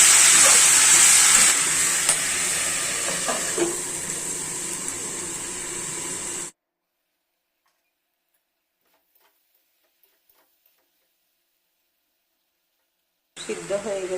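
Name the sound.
kundri curry with spices simmering covered in a pot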